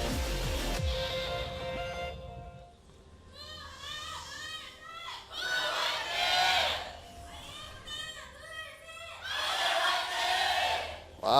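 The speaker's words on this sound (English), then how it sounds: "IM wins the cheer wars once again" A Korean esports arena crowd at a 2015 League of Legends LCK summer match roars in repeated waves of high-pitched cheering and shrieks, swelling loudly around the middle and again near the end, with shouted voices mixed in.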